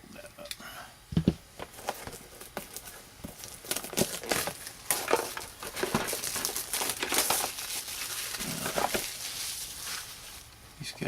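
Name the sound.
packaging being folded up during unboxing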